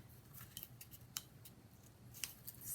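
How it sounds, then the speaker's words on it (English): Scissors cutting paper pages at an angle while a mini album is assembled, a series of faint, crisp snips spaced irregularly over a quiet background. "I cut these all at an angle"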